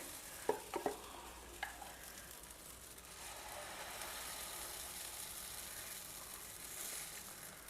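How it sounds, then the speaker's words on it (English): Dosa-style batter sizzles steadily on a hot pan, with a few sharp clinks of utensils near the start, then a continuous hiss rising slightly toward the end. "Now pour a little of batter on it."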